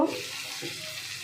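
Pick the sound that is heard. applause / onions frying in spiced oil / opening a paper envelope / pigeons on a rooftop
onions frying in spiced oil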